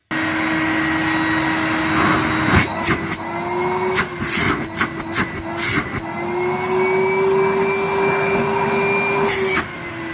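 A cream and brown Numatic Henry vacuum cleaner runs steadily through a suction test, a loud whining motor drone with a rising pitch and intermittent sucking and clattering bursts, no voices.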